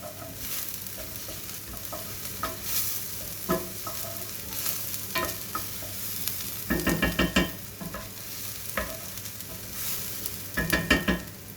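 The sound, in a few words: chicken pieces browning in a pan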